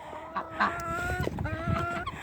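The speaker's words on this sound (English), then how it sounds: "our chickens are still lively." Backyard chickens clucking close by in wet weather, a few birds giving short repeated clucks and murmurs that overlap continuously for a couple of seconds, with no talk.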